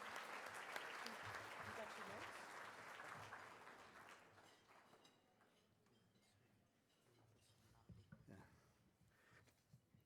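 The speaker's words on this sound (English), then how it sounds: "A round of applause for our Bishop Vann." An audience at a Catholic award tribute applauds for a bishop, a full burst of clapping that fades after about five seconds into quieter room noise with some talking.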